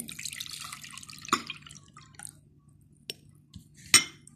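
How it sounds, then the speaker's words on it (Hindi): Orange juice is poured into a bowl, with a few sparse, close drips and small splashes separated by quiet gaps. "अब एक बोल में हम ये ऑरेंज जूस डालेंगे"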